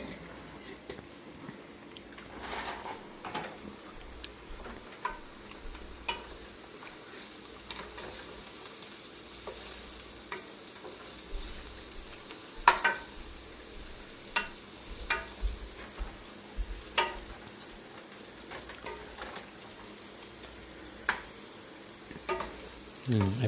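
Turmeric masala being stirred into chicken in a pan, a long stretch of soft sizzling with intermittent scraping and clinking strokes at an irregular pace, close but fairly quiet, with no talking.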